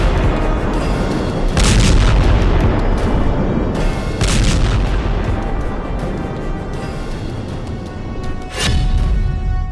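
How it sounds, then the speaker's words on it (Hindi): Repeated heavy booms of bombs weighing hundreds of kilograms falling on Gaza rumble loudly, with several sharp blasts standing out over a constant roaring, crackling background of distant explosions. "गाजा पर सैकड़ों किलो का बम जब गिरता है तो ऐसा धमाका होता है"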